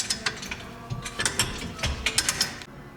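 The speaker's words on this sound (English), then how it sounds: "slide the bolts through, and fasten with nuts" Nuts being fastened onto bolts on a sprayer boom, a quick series of sharp metallic ratcheting clicks in bursts, close and fairly quiet.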